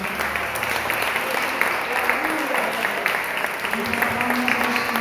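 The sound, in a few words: congregation clapping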